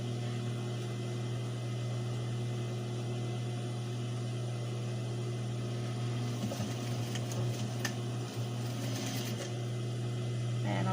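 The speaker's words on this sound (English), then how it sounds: "Now I'm just going to stitch the bottom half of the oval." A sewing machine stitches the bottom half of an oval seam on a fabric mask, running as a steady hum through the whole stretch with a few lighter clicks and rattles partway through.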